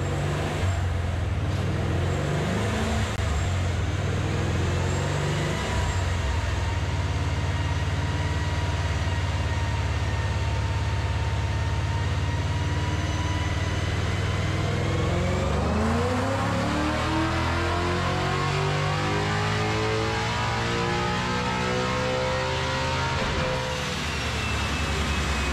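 A Procharged Coyote Mustang engine roars through dyno pulls: a loud, sustained engine drone that climbs in pitch as it revs, easing off and building again toward the end, with no voices.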